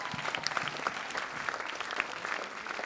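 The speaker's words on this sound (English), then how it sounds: "So, can we give them a round of applause, please?" Audience round of applause at a 2018 stage performance, a steady wash of many hands clapping with a few cheers through the whole stretch, fairly distant and even in loudness.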